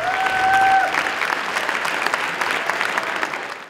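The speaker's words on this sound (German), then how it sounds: "Applaus" An audience at a district sports gala in Mansfeld-Südharz claps steadily in sustained applause, starting loud and gradually thinning toward the end, with a brief tone at the start.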